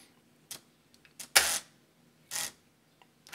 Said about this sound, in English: shutter release on this camera, nice and affirmative.